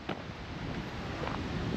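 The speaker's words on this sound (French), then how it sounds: "le vent s'est levé et ça souffle pas mal" Wind gusting outdoors on a countryside hiking loop, a steady rough rumble of air buffeting the microphone, sustained and fairly loud with no voices.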